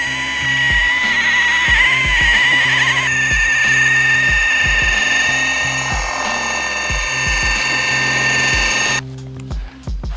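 Mirka Polaros RP 600 rotary polisher running against a surface, a loud continuous whirring drone with rhythmic rubbing knocks, shifting pitch partway through before stopping near the end.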